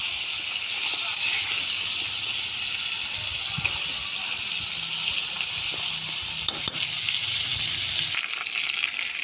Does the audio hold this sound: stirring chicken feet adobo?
yes